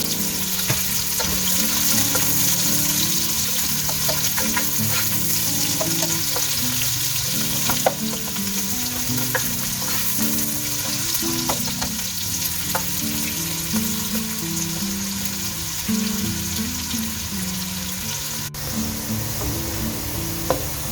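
About 300 grams of onions frying in a pan for keema with capsicum, a loud continuous sizzle with frequent scraping and clinking of stirring, close and steady throughout.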